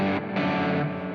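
An electric guitar plays an intro with a distorted tone, and fast picking imitates a delay repeat in a continuous, sustained phrase.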